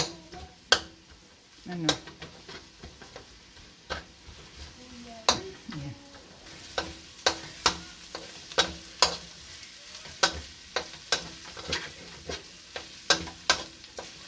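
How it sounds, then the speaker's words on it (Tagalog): Sliced onion sautéing in butter in a pan for spaghetti carbonara, with a low sizzle and repeated sharp clicks of stirring, scraping and utensil taps against the pan at a close, steady pace. "brown lang natin yung sibuyas"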